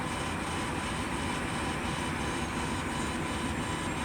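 A Class A truck's diesel engine idles steadily after a safe start during an airbrake inspection, a continuous broadband rumble running at even loudness with no talk over it.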